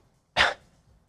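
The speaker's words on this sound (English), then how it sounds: "Inhale and do that small cough." A small deliberate cough during a barre core exercise, a single short burst heard close up and alone against near silence.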